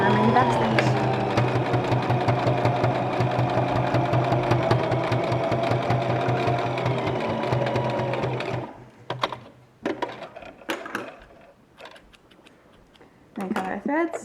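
A sewing machine stitching cloth face masks runs in a fast, steady rhythmic chatter for several seconds, then stops, followed by fabric handling and a voice speaking briefly.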